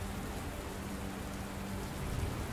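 Heavy, loud rain pours steadily in the horror video game Castle of Secrets, a dense continuous hiss with no gaps across the whole stretch and no voices over it.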